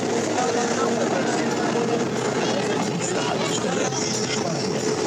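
Amusement park train from 1975 standing at a station in Europa Park, a steady rumbling hum of the train amid crowd murmur and nearby chatter throughout.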